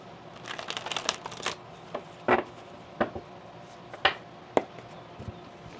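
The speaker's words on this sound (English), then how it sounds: "Just shuffle your cards well here." Tarot cards being shuffled by hand, a run of quick papery riffles and taps followed by separate soft slaps and flicks spaced apart, close and fairly quiet with no talk.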